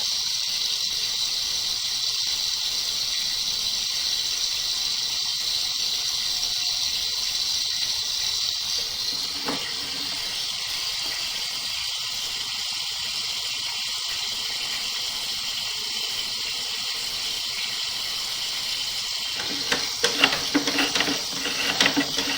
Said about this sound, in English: see we've got the water running by